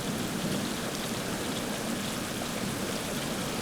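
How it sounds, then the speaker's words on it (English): Torrential rain pours steadily in a dense, even hiss over a campsite in Albania, heavy and unbroken with no voices. "The torrential onslaught of rain continued stubbornly"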